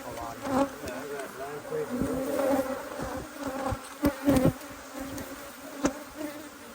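Honeybees buzz steadily at a completely full hive, a dense close drone with individual bees swelling louder as they pass near.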